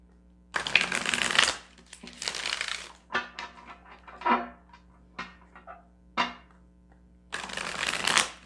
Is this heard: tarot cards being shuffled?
yes